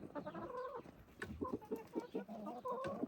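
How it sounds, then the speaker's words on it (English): Chickens cluck repeatedly at a backyard chicken coop, a close run of short, rhythmic clucks with little talking over them. "I got a trained chicken"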